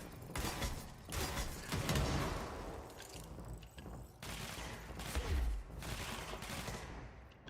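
Gunfire in the game Control, with repeated loud bursts of shots and clattering mechanical noise that swell and fade across the stretch.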